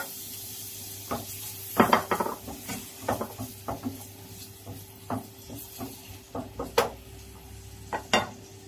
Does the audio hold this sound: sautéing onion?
yes